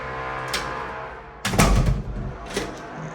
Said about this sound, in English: There's some construction going on, that's what that noise is.